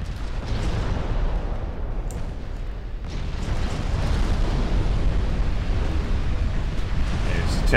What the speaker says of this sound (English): Guns on the heavy cruisers.